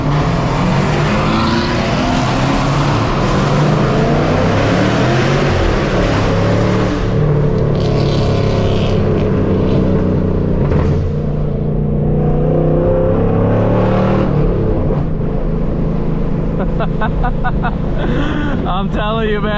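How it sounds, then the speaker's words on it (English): Car exhaust revving inside a tunnel at a car meet drive, loud echoing blips and roaring pulls with shifting pitch, close and reverberant, with people talking over the noise. "Are you gonna do a little tunnel exhaust right now?"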